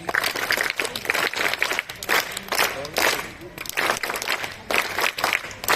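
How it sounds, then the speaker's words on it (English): Students and staff at a level promotion assembly at Narayana e-Techno School, Bhopal, clap together in a dense, steady roar that surges and dips over a few seconds, with scattered voices mixed in. "Narayana clapping."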